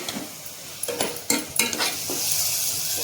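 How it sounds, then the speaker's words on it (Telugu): A spoon stirs dal paste with water in a hot pan, giving irregular scraping strokes and knocks over a soft sizzle, close and fairly loud, with no talk. "బాగా కలబెట్టాలండి."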